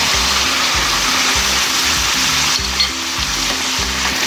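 Chicken karahi sizzles steadily in a hot pan after ginger garlic paste goes in, a loud continuous frying hiss with a regular low stirring scrape repeating about every half second.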